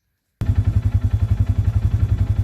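Polaris RZR 570 side-by-side engine idling around 1300 RPM in high range, a close, loud, steady low chugging pulse with a regular rhythmic beat, starting abruptly after a short silence.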